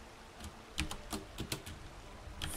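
A short burst of key presses on a computer keyboard, about eight close, crisp clicks at an uneven pace, with no voice.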